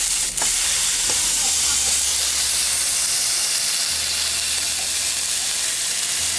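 Steak searing in a hot pan just after being flipped, a steady loud broadband sizzle and hiss running unbroken throughout, with no voices.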